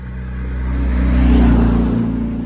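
A car passes by outdoors, its engine rumble and tyre whir swelling to a peak at mid-clip and then easing off, loud and steady with no talk over it.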